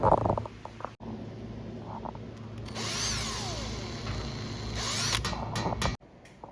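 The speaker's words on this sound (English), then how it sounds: "So let's drill this out real quick and then get this bad boy to fit." A power drill bores holes through a sheet metal panel for a mud truck, a steady whirring grind with screeching bursts, close and loud, starting and stopping abruptly.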